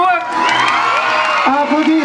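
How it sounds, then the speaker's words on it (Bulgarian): A TV show studio audience cheers and shouts as a pageant runner-up is announced, a burst of loud whoops and excited voices backed by music. "Аплодисменти!"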